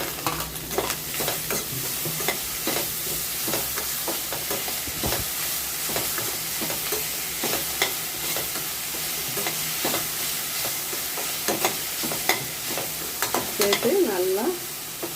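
Onion and sago being stirred and sautéed on low heat for white sorghum upma, a steady soft sizzle with frequent scraping stir strokes throughout, close and alone.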